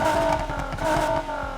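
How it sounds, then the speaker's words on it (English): A Nissan Silvia S15 fitted with a VR38 engine revs its exhaust in Need for Speed, with two quick throttle blips rising and falling over about a second and a half, loud and close. "We go over to my exhaust sound here. You can hear that VR38."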